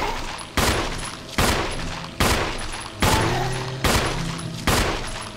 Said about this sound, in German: Fast ein ganzes Magazin auf dem verballert.